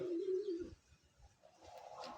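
A checkered pearl-eye racing pigeon gives a short close coo, then a quieter second murmur after a pause, with no talking over it.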